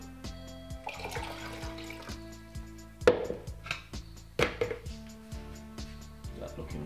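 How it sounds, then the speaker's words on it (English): Carrot, ginger and lemon juice poured through a strainer, liquid splashing and trickling in uneven bursts with a few clinks of kitchenware against a musical background. "Just gonna have to run it through the strainer"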